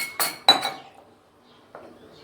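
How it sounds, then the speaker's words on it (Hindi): Two or three sharp clinks of a utensil against a glass bowl while cream and cocoa powder are mixed, close and crisp, followed by quieter rustling and a softer final knock. "एक हमने लेना है कांच का बाउल लेना है, उसमें हमने करना है क्रीम और कोको पाउडर हमने मिक्स कर देना है"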